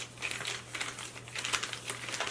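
Soft crinkling and rustling of plastic face mask packets being shuffled by hand, a quick series of light crackles up close.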